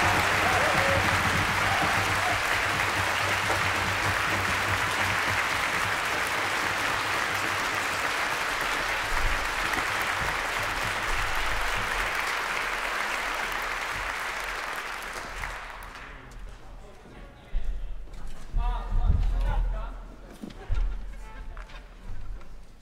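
A concert audience applauds the concertmaster at an orchestra performance, a dense, loud sustained roar of clapping that fades after about fifteen seconds into scattered claps, shuffling and murmuring voices.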